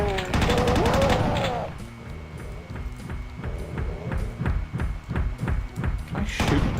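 Rapid gunfire in Doom running on GZDoom, a steady string of sharp repeated shots after an opening burst of game noise, loud and close, with no talking over it.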